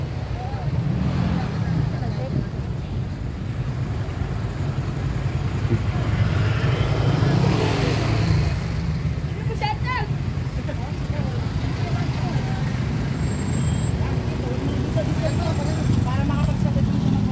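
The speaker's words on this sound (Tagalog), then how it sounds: "Puno-puno ng mga sasakyan. Traffic." Congested road traffic with motorcycles near Manila Memorial cemetery: a steady, loud low rumble of idling and creeping engines throughout, with someone talking over it.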